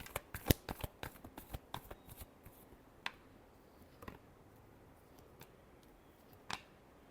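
Tarot cards being shuffled by hand: a quick, close burst of crisp riffling snaps at the start, then sparser single card slaps and taps trailing off, quiet overall.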